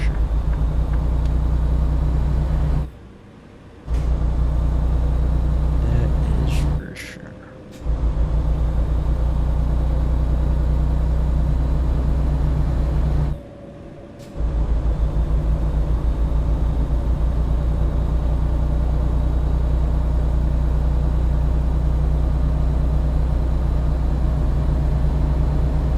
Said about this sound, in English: I guess the truck doesn't sound terrible